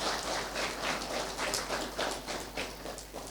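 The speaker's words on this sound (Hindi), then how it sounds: "इसलिए अब हम तालियां बजा के इनको धन्यवाद दें सबसे पहले।" Church congregation clapping together in thanks, a steady dense patter of many hands at moderate distance, continuous and even throughout with no voices over it.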